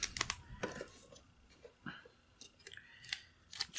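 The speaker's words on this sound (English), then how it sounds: "use my utility knife that I already have out to cut it" A utility knife scores and slices through material for a tarantula enclosure, heard as faint, scattered close-up scraping and crisp snipping ticks with light handling noise.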